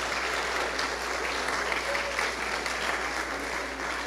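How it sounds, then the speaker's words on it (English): Steady audience applause at a church service fills the space, a dense continuous wash of clapping from a congregation, fairly even in loudness throughout with no voices standing out. "if you guys could give these guys a round of applause"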